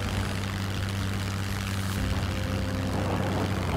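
Steady drone of a propeller aircraft in Scum coming down at an airfield base, an even engine hum with a low buzzing tone and airy wash, loud and constant throughout.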